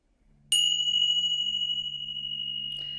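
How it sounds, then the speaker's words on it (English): A ritual bell is struck once and rings out with a long, clear, sustained tone that slowly decays, with a faint steady low hum beneath and a soft rustle near the end. "So I'm just going to ring the bells."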